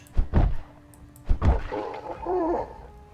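Two heavy fire axe strikes in the zombie survival game Project Zomboid land about a second apart, each a close, dull thunk with a short thud, followed by a low rumbling undertone.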